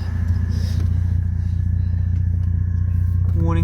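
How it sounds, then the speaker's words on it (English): A broken Mercedes idling loudly with half its exhaust missing, a deep steady rumble close by throughout, with a short rising whine near the end. "This is obviously louder than usual because half of the exhaust is not here."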